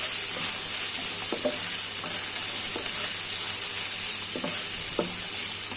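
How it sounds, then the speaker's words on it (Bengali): Chopped onions fry in hot oil in a pan, a loud, steady hissing sizzle throughout, with occasional soft stirring knocks and scrapes close by and no talking. "আগে পেঁয়াজটাকে একটু হালকা ভেজে নিব।"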